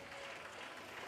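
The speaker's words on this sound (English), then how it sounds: "They're applauded off here" Steady applause from a rugby league crowd at Featherstone as the players leave the field at half-time, a continuous wash of clapping at moderate distance with no voices standing out.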